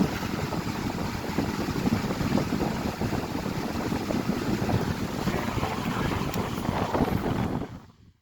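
A Kool Operator JR or Honeywell HT800 fan runs on high, giving a steady broadband whooshing roar, close and constant for about eight seconds before cutting off abruptly.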